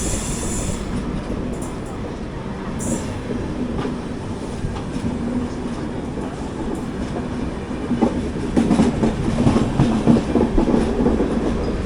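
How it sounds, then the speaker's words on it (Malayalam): Charminar Express bound for Tambaram rolls past with steady clickety-clack of wheels over rail joints, heard close and continuous, growing slightly louder toward the end, with no voices. "താമ്പരത്തേക്കുള്ള ചാർമിനാർ എക്സ്പ്രസ് ആണിത്."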